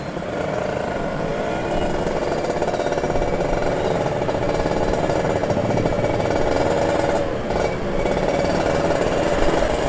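Two-stroke Kawasaki Ninja RR 150 motorcycle engine on a night ride, a steady loud buzzing drone throughout with slight pitch shifts and no talk.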